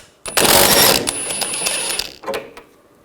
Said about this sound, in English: Then I'm going to use an 18mm socket to take this nut off.